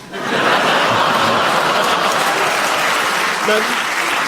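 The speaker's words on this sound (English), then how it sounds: "the audience clapped when he said that" A studio audience at a radio panel game breaks into loud, sustained applause that holds steady for several seconds, with scattered chuckles and laughter mixed in.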